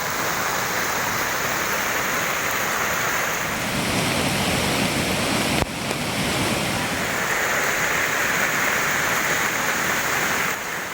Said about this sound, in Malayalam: കിഴക്കൻ മലയോര മേഖലയിലെ ശക്തമായ മഴ ഇരവഞ്ഞിപ്പുഴയിൽ മലവെള്ളപ്പാച്ചിലിന് കാരണമായി